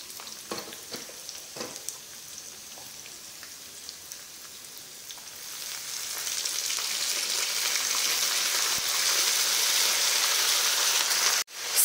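Garlic, ginger and dried red chilies sautéing in a pan with mint, a steady crackling sizzle that grows louder and denser in the second half, with occasional utensil clicks and a sharp knock near the end.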